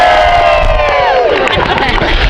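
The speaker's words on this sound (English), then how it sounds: "Let's everybody just cheer." A group of people outdoors cheers together loudly, a close burst of shouts and whoops that swells and then breaks into scattered yells.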